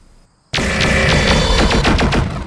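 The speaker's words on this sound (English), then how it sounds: "it twists around and fires a laser and machine gun" Rapid machine gun fire from a BattleTech Crusader mech, a loud continuous burst of close gunfire starting abruptly after a moment of quiet and running to the end without pause.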